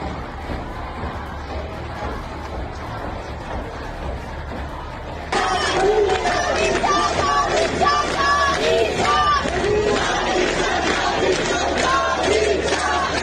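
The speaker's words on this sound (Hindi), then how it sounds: "यहाँ हजारों लोग खामनेई के खिलाफ सड़कों पर बिगुल बजा रहे हैं।" Thousands of protesters fill the streets against Khamenei, a dense crowd roar that surges louder midway into massed chanting and shouting voices, continuous and heavy.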